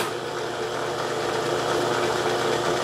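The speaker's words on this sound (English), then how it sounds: "I've got the mill geared down as low as it'll go," A milling machine geared down to its lowest speed of 80 RPM runs steadily, a continuous low mechanical hum and whir with no pauses or voices.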